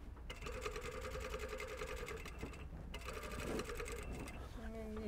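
A sewing machine runs steadily, sewing a shirt collar to the neckline with black thread, in a continuous close whir with one short pause in the middle, while a person talks over it.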